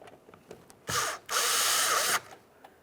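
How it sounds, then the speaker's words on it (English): A powered Phillips driver snugs a mounting screw into plastic on a Honda front power window motor and regulator assembly, with a short whirring burst followed by a longer, loud, steady whir, close by. "Use our Phillips head to snug it up."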